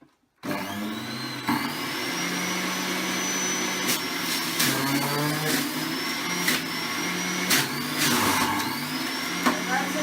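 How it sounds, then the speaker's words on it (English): An electric juicer whirs steadily as broccoli and pineapple are fed through it, with recurring grinding surges and rising whines over a continuous motor drone, close and fairly loud, with a voice talking over it. "So let's get on with juicing."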